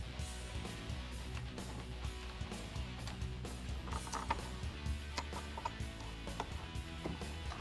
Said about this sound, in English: Now with that 13mm socket, we can go ahead and tighten up our hardware to our bracket.